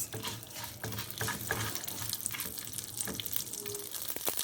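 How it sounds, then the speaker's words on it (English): Mustard seeds splatter and crackle in hot oil, with quiet sizzling and small scattered pops close by. "Now the mustard seeds have started to splatter."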